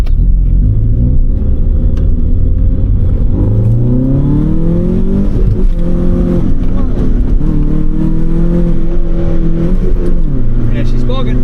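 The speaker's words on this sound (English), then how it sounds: "Acceleration test here." A Proton Satria GTi roars loud and close through an acceleration run, engine pitch climbing through several gear pulls, dropping between shifts and rising again, with a voice over the engine.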